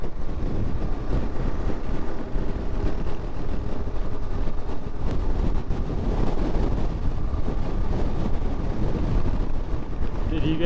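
Wind gusts buffet the microphone in a constant heavy rumble while a rider takes a KTM 690 enduro along Colorado mountain trails, and the rushing, thumping noise drowns out everything else.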